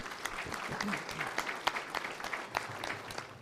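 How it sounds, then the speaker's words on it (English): Soft round of applause from an audience at a candidates panel session, steady clapping that stays fairly faint and distant, with a few sharper claps standing out. "Let's give them all a round of applause."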